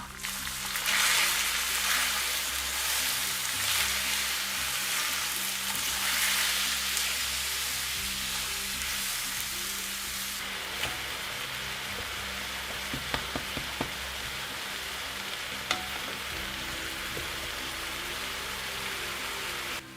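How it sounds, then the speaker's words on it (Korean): Apples tipped into dark brown caramel syrup for a one-pan tarte tatin hiss with a steady, close broadband sizzle that eases slightly partway through, with a few faint clicks of stirring near the end. "시럽이 어두운 갈색으로 변하면 사과를 다 넣어주세요"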